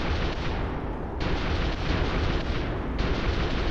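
Aircraft guns in War Thunder hammer away at a bomber during a dogfight over the French coast, a dense, loud, continuous roar of rapid fire with short breaks in the bursts.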